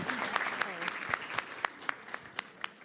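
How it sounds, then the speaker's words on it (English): Clapping at an academic Q&A session on education, starting as a short burst of applause and thinning to a few slow, distinct claps, with a voice speaking briefly early on. "go ahead, clap."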